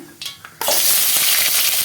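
A couple of light clinks, then a sudden loud sizzle as chopped onions and fennel hit hot oil, crackling steadily and close by.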